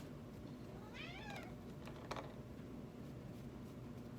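A house cat gives one short, rising meow partway through, faint and somewhat distant over a steady low room hum, followed by a light click.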